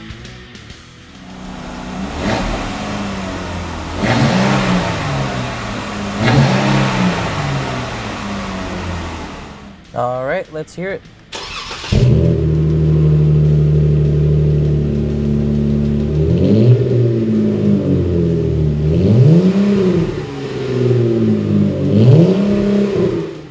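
A Jeep Wrangler JK fitted with an aFe cat-back exhaust with dual black tips idles with a deep rumble, then revs repeatedly in rising and falling swells, loud and close, after a brief spoken cue.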